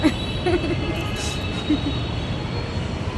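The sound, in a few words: metro train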